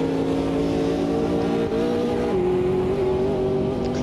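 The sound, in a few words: race car engine revving with clutch slipping, Automobilista 2 video game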